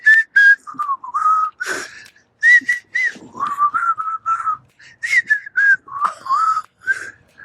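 Someone whistles a tune alone, a clear, bright melody of short phrases and held notes with brief pauses between them, close and fairly loud, with no talking.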